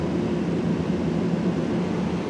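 Steady, even drone from both engines of an Indonesian-built propeller aircraft running, a smooth continuous hum with no breaks, heard from inside the cabin.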